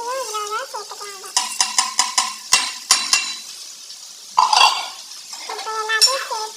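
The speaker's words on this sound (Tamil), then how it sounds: "இப்போ எல்லாத்தையும் சேர்த்து நல்லா ஒரு கிண்டு கிண்டி விட்டு" A metal spoon scrapes and taps in a pan while ridge gourd with moong dal and grated coconut is stirred, giving a series of sharp close clinks over light sizzling, with a voice speaking in between.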